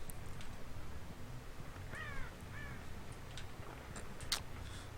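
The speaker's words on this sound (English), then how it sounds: "Got a bird somewhere in this direction." Crow caws in the Dead by Daylight video game: two short harsh calls mid-clip, fairly faint against a steady low ambient rumble, with a few sharper clicks and a brief bright sound near the end.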